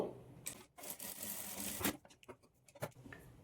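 A sewing machine stitching a blouse runs in quiet, uneven bursts of rapid mechanical clatter, with short pauses between runs and small handling clicks.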